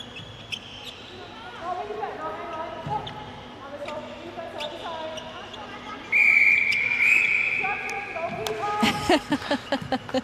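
Umpire's whistle at an international netball match between Sri Lanka and the Cook Islands, with several short blasts and one longer blast over crowd hubbub and a commentator's voice, amid ball bounces and court noise.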